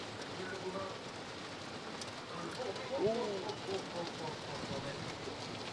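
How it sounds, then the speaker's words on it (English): Steady rain falls on an outdoor polo field during a match in Deauville, a constant broadband hiss running throughout with slight swells, while a commentator talks over it. "Now the rain is falling harder."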